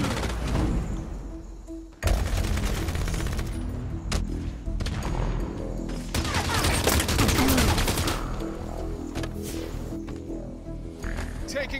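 Gunfire in the Halo 5 beta multiplayer: rapid bursts and fusillades of weapon fire, loud and close, with sharp breaks and dense volleys throughout. Game announcer callouts and other voices run through the clip.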